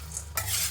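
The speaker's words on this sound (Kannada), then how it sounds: "ಲೋ ಫ್ಲೇಮಲ್ಲೇ ಇಟ್ಕೊಂಡು ಬಾಣಲೆನ ನಾವು ಇದನ್ನ ಒಂದು 20-30 ಸೆಕೆಂಡ್ ಹುರ್ಕೊಂಡ್ರೆ ಸಾಕು" Dry roasting and stirring peanuts (kadale beeja) in a pan over a low flame, with a soft continuous scrape and light sizzle that grows louder and busier halfway through the short stretch; no talking.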